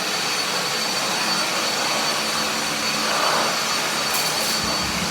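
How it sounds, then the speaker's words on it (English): A vacuum cleaner runs across the floor during a home renovation, making a steady, loud whooshing drone that holds without pause for the whole stretch, with no talking. "that's how you vacuum"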